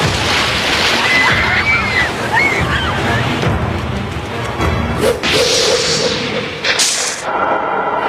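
A monster's whip lashing on a beach in a Kamen Rider Kuuga fight scene: sharp swishes and cracks cut through a loud, continuous wash of surf and scene noise.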